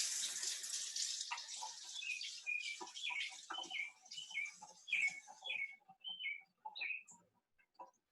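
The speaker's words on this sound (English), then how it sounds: "I'm just gonna wash my hands." Tap water runs steadily over hands being washed, a broadband rushing wash that stops around the midpoint, with birds chirping clearly in the background throughout.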